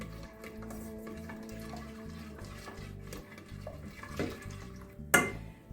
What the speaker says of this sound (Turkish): Yine karıştırıyorum.